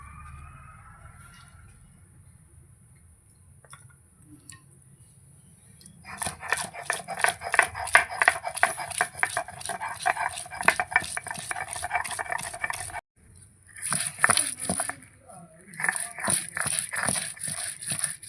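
Garlic and onion being ground into paste on a stone slab, a steady run of rough rhythmic scraping strokes close by that stops briefly, then resumes in short bursts.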